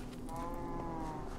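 A cow moos in the video game Minecraft Dungeons, a short drawn-out low call over a constant bed of game sound.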